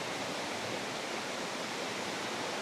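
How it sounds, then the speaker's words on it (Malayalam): Stream water rushing and foaming between rocks along a village creek near Karikadu and Vellikulam, a steady, full broadband roar with no pauses, close by and alone with no voices. "ആ കല്ലിൻ്റെ ഇടയിലൊക്കെ കൂടെ വെള്ളം ഇങ്ങനെ കുത്തി ഒലിച്ച് പതഞ്ഞ് വരുന്ന ഒരു കാഴ്ച"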